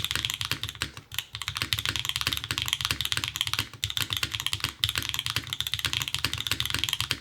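Fast, continuous typing on a Float65 mechanical keyboard resting on a bare table produces dense, close, clacky keystrokes with a hard, industrial ring and only brief pauses.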